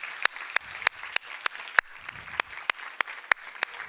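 Scattered clapping fills a room at a university talk, a soft wash of hands with sharp, distinct claps standing out at a quick, regular beat, sounding fairly close.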